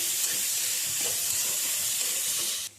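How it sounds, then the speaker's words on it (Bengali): Onion fries slowly over a low flame in a pan, giving a steady, soft sizzling hiss throughout that cuts off abruptly near the end. "লো ফ্লেমে আস্তে আস্তে এটাকে ভাজতে হবে, নয়তো পুড়ে যাবে।"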